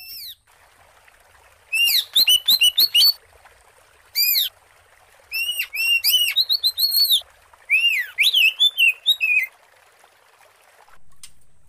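A long-tailed white-rumped shama in a cage sings clear, loud whistled phrases in repeated bursts, with short pauses between runs of rising and falling notes.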